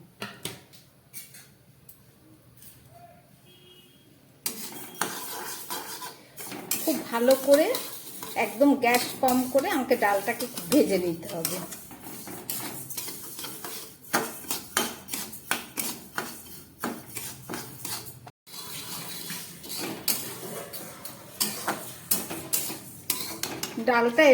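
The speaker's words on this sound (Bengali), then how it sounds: "এদিকে একটা কড়াই বসিয়ে দিলাম তার মধ্যে আমি এখানে সাড়ে তিনশো গ্রাম মুগ ডাল একটু ভেজে নেবো" Dry moong dal rattles and scrapes in a wok as a spoon stirs it, with clinking metal, a soft sizzle, and occasional speech.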